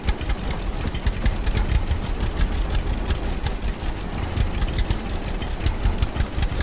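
A tractor engine runs in the farming game Farmer's Dynasty, giving a continuous close, loud mechanical drone with a rapid pulsing rattle and no pauses.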